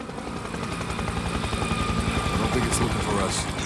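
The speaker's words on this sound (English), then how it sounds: "Incoming helo." An incoming helicopter in the war game Spec Ops: The Line, its rotor thumping in a fast steady rhythm that grows slightly louder as it closes in, with a brief hiss of other game noise near the end.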